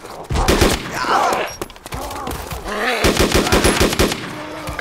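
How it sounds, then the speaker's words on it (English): Rapid bursts of video-game gunfire from players shooting zombies, loud and close, rattling in repeated volleys across the clip. "Can you shoot the zombies for me?"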